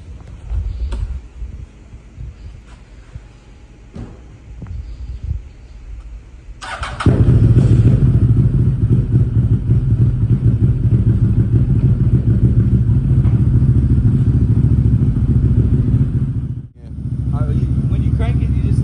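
A CFMoto CForce 1000 ATV fresh from its break-in service cranks and starts after some clatter and handling noises, then settles into a loud, steady close idle, with people talking briefly.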